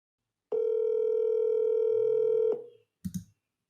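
Steady telephone dial tone sounds loudly alone for about two seconds before a call is placed, cutting off, followed by a couple of brief clicks.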